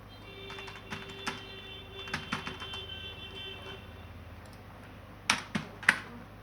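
Typing on a computer keyboard while writing an email: scattered clusters of light key clicks, fairly close and quiet over a steady hum, ending with a few sharper, louder keystrokes.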